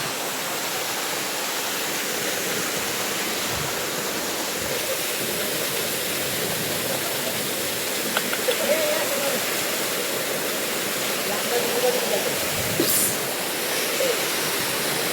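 A hidden waterfall near Kalyan and Titwala roars as a steady, broad rush of falling water, constant and close, with faint voices now and then beneath it.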